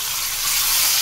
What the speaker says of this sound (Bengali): ফোড়নটা একটু চিরবির করে উঠুক